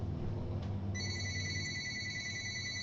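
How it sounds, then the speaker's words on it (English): A telephone rings with a steady electronic bell tone, starting about a second in and continuing to the end, clear and moderately loud over a low background hum. "You hear that phone?"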